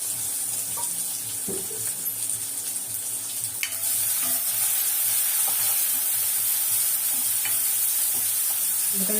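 Onions sizzle in hot oil with fennel seeds for a Chettinad-style dish, a steady bright hiss with a few soft stirring clicks and scrapes, close and alone with no voices.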